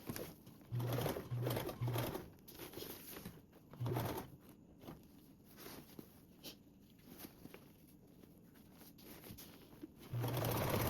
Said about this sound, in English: We're going to sew with a 1/4 seam allowance.